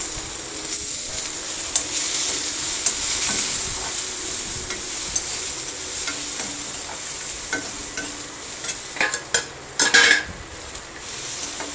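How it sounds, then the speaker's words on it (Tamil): Chopped tomatoes sizzle and fry steadily in a pan while a spoon stirs and scrapes, with a few sharper metallic clinks near the end. "பின்பு நறுக்கி வைத்துள்ள தக்காளியை சேர்த்து வதக்கவும்."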